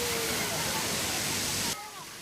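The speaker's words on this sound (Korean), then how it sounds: "통에 가득 찬 물이 폭포수처럼 쏟아지자" Water from a full tank at a city park water play area pours down like a waterfall in a loud, steady rushing torrent, then cuts off abruptly near the end and leaves a quieter trickle.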